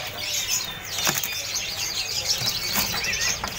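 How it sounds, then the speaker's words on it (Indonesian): A ledekan Gunung Sumatera songbird at a busy bird market, with bright chirps and tweets and sudden bursts of wing flapping close by, no talking. "ini juga ready untuk burung ledekan Gunung Sumateranya ya"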